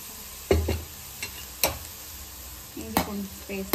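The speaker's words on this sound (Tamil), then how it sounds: "பச்சை வாசனை போட மட்டும் நல்லா வதக்கிக்கலாம்" Ginger garlic paste being sautéed in a pan of fried onions, with a quiet sizzle under a few sharp spatula scrapes and taps against the pan.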